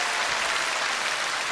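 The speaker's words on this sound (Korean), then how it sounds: "박수해 주시기 바랍니다." Audience applause at an outdoor televised singing contest in Yeoncheon, Gyeonggi Province: a continuous, even wash of clapping from a large crowd, loud and sustained throughout.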